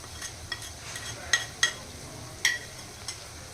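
Spices such as chilli powder, coriander powder and salt are stirred into raw mango pieces in a pan for a tangy-sweet Khandeshi vegetable dish, with soft scraping and a few sharp spoon clicks against the pan, faint and close.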